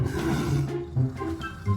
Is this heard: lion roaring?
yes